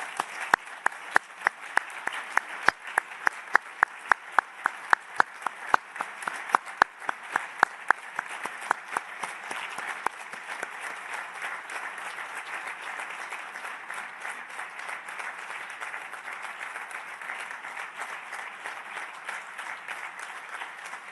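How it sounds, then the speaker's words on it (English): Audience applause at a UN Refugee Agency meeting in Geneva, a large crowd clapping at moderate distance, with sharp rhythmic claps early on that settle into a dense, steady ovation lasting about twenty seconds. "Vi chiedo di tutti insieme fare un grande applauso, un tonnerre d'applaudissement per Filippo Grandi."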